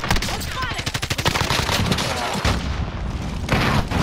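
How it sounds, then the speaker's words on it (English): Call of Duty: Modern Warfare gunfire and a grenade explosion: a loud, rapid stream of evenly spaced automatic shots, then a heavier booming blast and continued combat noise close by. "I hit him with the grenade!"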